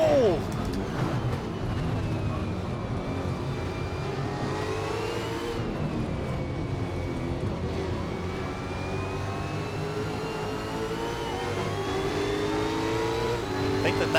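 V8 Supercar engines racing at Eastern Creek in Assetto Corsa, loud and continuous, revving up and down through gear changes as several cars run close together for the whole stretch.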